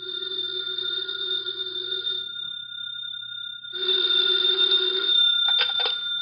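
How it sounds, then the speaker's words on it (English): Telephone bell ringing in a radio drama, an old house phone giving two long jangling rings separated by a short pause, loud and close, followed by a brief clatter. "the phone in the Lawrence house on Berry Hill Lane began to jingle"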